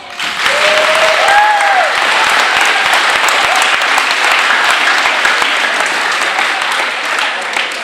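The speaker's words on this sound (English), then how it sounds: "So give them a round of applause." An audience claps loudly and steadily at a school-style event, a dense sustained round of applause with a brief whistle or voice rising near the start.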